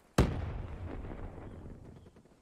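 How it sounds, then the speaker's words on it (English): A grenade explodes nearby in Call of Duty Black Ops 4: one sharp, heavy blast followed by a low rumbling decay that fades over about two seconds. "Grenade close."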